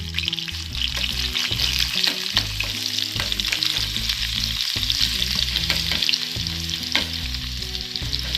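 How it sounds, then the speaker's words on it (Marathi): Finely chopped garlic frying in hot oil with mustard seeds for a cauliflower bhaji, sizzling loudly and continuously while seeds crackle and pop in dense bursts, close up and without any talking. "मोहरी छानपैकी फुलली की आपण त्याच्यामध्ये लसूण टाकायचा"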